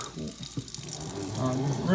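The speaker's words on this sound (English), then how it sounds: "If you're gonna just water like that, I turn my water on" A kitchen faucet runs room-temperature water to wet the base of a potted Phalaenopsis orchid, giving a steady, close rush that swells louder toward the end.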